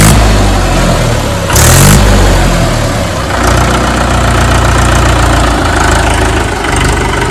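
Diesel 575 tractor engine revved hard as the accelerator is pressed, loud and close, with a knocking idle rising into a throaty surge and settling back down.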